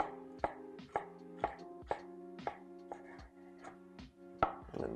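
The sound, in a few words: knife chopping herbs for pesto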